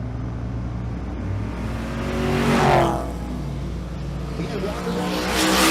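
2010 Chevy Camaro at a drag race at Twin Cities Raceway, its engine roaring loudly and rising in pitch through a launch and pass, with a track announcer talking over it.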